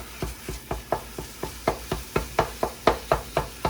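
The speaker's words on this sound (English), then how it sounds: "I'm going to cook this chorizo just a minute" Chorizo cooks in a pan with a soft sizzle, broken by regular scraping spoon strokes, roughly four per second. The sound is quiet and close, with no speech.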